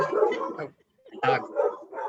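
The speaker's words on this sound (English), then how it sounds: "sorry, dogs are barking." Several loud, close dog barks in quick bursts, with a short pause between them, some sounding yippy and whiny.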